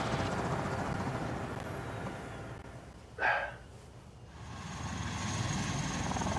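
A steady aircraft engine drone on a carrier deck in the game Carrier Deck dips in level midway, where a short burst of brighter roar breaks through before the drone swells again.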